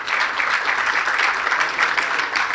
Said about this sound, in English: You really didn't have to clap after everyone